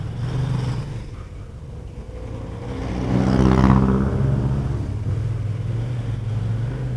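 Engine of a Kymco AK550 maxi-scooter cruising through Manila, a steady low droning hum that swells briefly in the middle and then settles back to an even rumble, with no talk over it.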